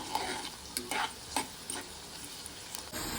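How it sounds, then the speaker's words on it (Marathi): Onion sautéing in a pan for a prawn curry gives a faint, steady sizzle broken by several short scraping stirs, close by, and no one speaks. "आता हा कांदा आपल्याला हलका गुलाबी होईपर्यंत परतवायचा आहे"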